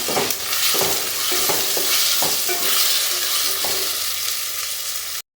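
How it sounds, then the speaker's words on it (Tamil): Chopped tomatoes stirred and sautéed in a hot pan, a steady loud sizzle broken by repeated scraping strokes of a spoon, with no talking. "இப்போ நல்லா தக்காளி சேர்த்துட்டு வதக்கி விடுங்க."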